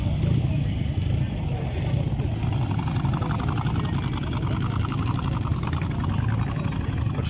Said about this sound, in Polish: Przyjeżdżają cały czas motocykliści, widzicie, zobaczcie. Taki ładny zundap.